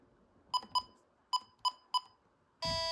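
A Radionics alarm system keypad gives five short, clear beeps in an uneven pattern, followed by a sustained louder tone at the end, in a quiet room.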